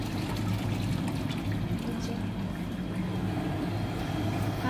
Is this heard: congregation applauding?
no